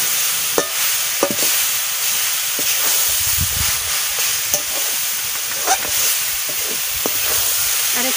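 Coconut filling frying in a pan for pithas, with a continuous soft sizzle and hiss and periodic scraping knocks of a stirring spoon, close by.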